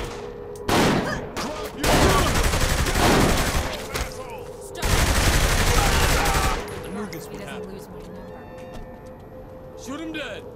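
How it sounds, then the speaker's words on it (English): Gunfire in Saints Row The Third breaks out in loud, dense bursts across the clip, with game voices shouting over it and quieter stretches toward the end. "Shooting them probably doesn't help change their mind."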